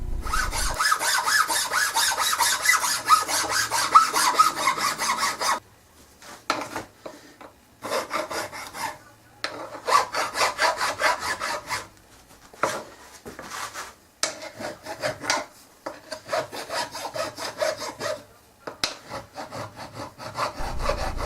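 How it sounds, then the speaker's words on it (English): A hand file rasps across cable ends extending from a pipe while a bronze pit welder is built, repeated bursts of scraping strokes broken by short silences, close and distinct, with no speech. "the cable ends that extend beyond the pipe are filed smooth and any sharp edges are removed"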